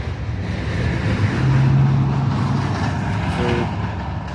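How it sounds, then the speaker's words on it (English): A loud, noisy truck rumbles past at close range with a heavy broadband roar that swells through the middle and briefly carries a sustained tonal hiss like an air brake, with no talking. "really loud, noisy truck just went by"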